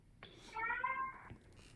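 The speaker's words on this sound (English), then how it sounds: "Can you guys hear my cat again?" A pet cat gives a single drawn-out meow, fairly close and clear, heard alone during a pause in a bridge game.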